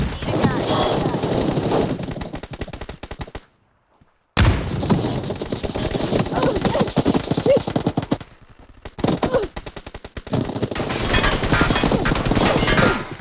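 Automatic rifle gunfire in PUBG New State, with rapid loud bursts of shots in several long stretches broken by brief silent gaps, sometimes with voices underneath.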